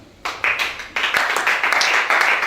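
A church congregation bursts into loud, close applause, many hands clapping in a dense, uneven patter that starts abruptly and keeps going to the end.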